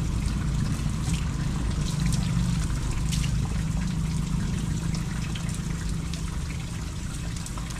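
Water trickles and streams steadily from under a bridge at a Davao City flood control site, a continuous close rushing flow with a low rumble that holds even throughout, no voices.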